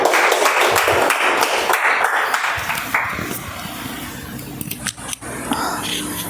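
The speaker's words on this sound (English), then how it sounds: "please stand up and applause to support him" Audience applause at a Toastmasters club meeting, scattered clapping that starts fairly full and thins out, mixed with murmured voices, light taps and shuffling noises in a small room.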